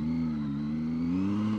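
Zontes 703F three-cylinder motorcycle engine pulling away in first gear, a steady close-up drone that rises slightly in pitch as the bike accelerates, with no talking.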